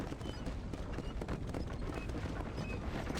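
A horse trots in Red Dead Redemption with a steady, quick clip-clop of hooves against faint wind-like background noise, moderately quiet and with no talk over it.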